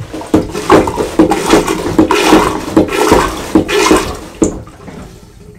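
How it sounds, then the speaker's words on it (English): Rhythmic strokes of a manual marine toilet hand pump on a 2015 Bavaria 46 Cruiser sailboat pushing water, about half a dozen sloshing gushes in steady succession before the pumping stops. "First of all, pump water through the system."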